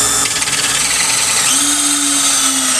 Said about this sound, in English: You then take the drill bit and drill.